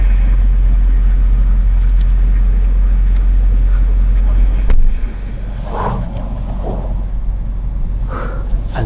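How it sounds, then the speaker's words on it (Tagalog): A car idling in freezing cold to warm up, a steady loud low engine rumble that drops slightly midway and keeps running, with a voice talking faintly over it. "Painitin muna natin yung sasakyan natin."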